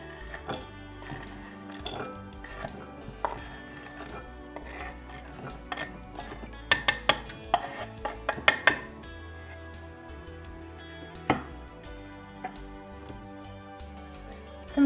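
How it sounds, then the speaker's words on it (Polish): Chopped chocolate is moved from a board into a bowl with a run of close clinks, taps and scrapes of utensil against dish, clustering into a quick clatter midway before settling into sparse knocks. "Posiekaną czekoladę przekładam do miski."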